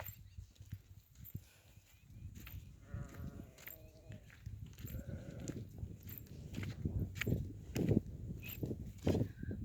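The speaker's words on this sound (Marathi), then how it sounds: "बघा आमच्या मेंढ्या आहेत त्या दिसल्या ना" Sheep bleat several times at a moderate distance, mixed with rustling and footsteps in an open outdoor setting, with some people talking faintly.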